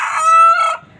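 A caged rooster crows loud and close in one short, bright cock-a-doodle call that cuts off abruptly, with faint clucking of chickens trailing after.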